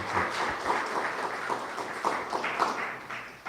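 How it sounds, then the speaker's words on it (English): A live audience at a marketing talk gives a guest speaker a round of applause, with steady mid-level clapping running for several seconds and no speech over it. "let's give Joel a round of applause"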